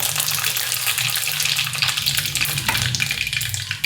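Mustard seeds and cumin dropped into hot oil for a Maharashtrian chana dal and onion dry sabzi, giving a loud, steady hiss and crackle that carries on throughout without talk.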